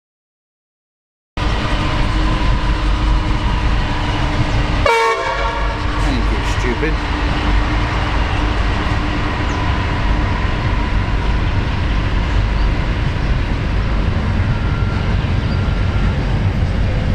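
A train rumbles past close by a caravan park in Western Australia's Wheatbelt with a loud, continuous roar, a brief horn-like tone sounding early before the steady rolling noise carries on.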